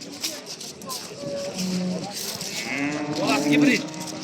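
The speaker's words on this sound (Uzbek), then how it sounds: "sigirlari yurishlarini ham ko'rib qo'yasizlar aka" Cows low at a livestock market in Balikchi, Uzbekistan: a few drawn-out moos rise over a busy outdoor background, the last one the loudest and nearest.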